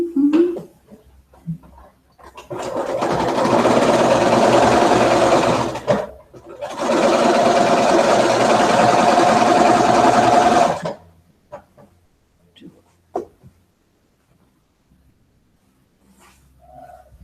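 Two long runs of a sewing machine joining quilt pieces, each steady whirring stretch separated by a short pause, followed by quieter clicks, faint dog sounds and brief shuffling.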